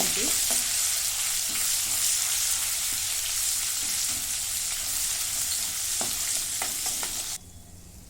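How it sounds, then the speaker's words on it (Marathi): Ginger-garlic paste sizzles and crackles in a hot pan for a chakvat greens dish with green chillies, with occasional stirring scrapes; the steady frying hiss drops off abruptly near the end. "थोडीशी आलं लसूणची पेस्ट आहे परतून"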